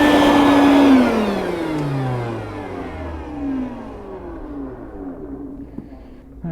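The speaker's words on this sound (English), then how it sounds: "you want to go grab the wet vac?" A wet vac used to suck water out of a water heater drain pan roars loudly, then its motor whines down in a long falling pitch as it shuts off.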